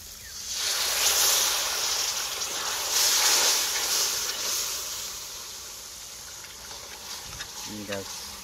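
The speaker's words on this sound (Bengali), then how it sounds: "মশলাটা প্রায় হয়ে গেছে, এর মধ্যে হালকা পরিমাণে জল দেবো আমরা" Water poured into nearly cooked sizzling masala for paneer butter masala sets off a loud, steady hiss and bubbling in the pan that rises and then eases, with a brief clatter near the end.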